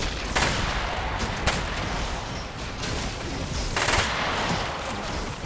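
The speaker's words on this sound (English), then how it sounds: "These guys got tiny SMGs that are pretty awesome." Small SMGs firing in a Warhammer 40k mod video game at a trench line, with dense rapid bursts over a constant roar of battle and several sharper bursts standing out.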